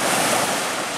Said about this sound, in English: just past where you see the waves breaking here